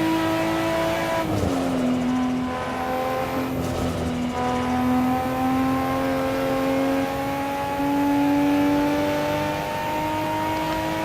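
Race car engine from Assetto Corsa driving a full lap, a loud sustained drone that drops briefly on a shift or lift, then climbs steadily in pitch as it accelerates, with no talking over it.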